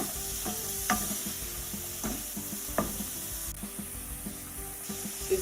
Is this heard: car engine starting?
no